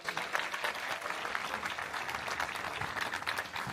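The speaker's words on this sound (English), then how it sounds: "Give him a round of applause, would you please?" Audience at a Peoria municipal band concert applauding a drummer after a drum solo, a steady, fairly distant spread of clapping with no talk over it.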